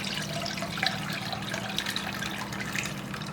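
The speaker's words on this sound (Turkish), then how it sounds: "Kemik suyumuzu süzgeçten süzüyorum böyle." Bone broth is poured through a kitchen strainer as Turkish firik pilaf is prepared, making a steady, close liquid splashing and trickling for a few seconds, with no talking.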